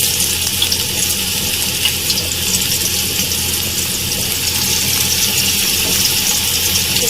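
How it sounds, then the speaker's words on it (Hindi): Peshawari chapli kebabs sizzle loudly and steadily in a generous layer of hot oil on a tawa, a dense, unbroken hiss filling the whole stretch with no voices. "एक तवे पे मैंने यहाँ पे ऑयल गरम कर लिया है और अब मैं इसके ऊपर कबाब डालूंगी।"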